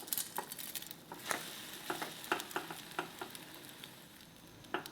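Eggs frying in a pan, a soft continuous sizzle broken by repeated light scraping and stirring clicks from a spatula, fairly quiet and close.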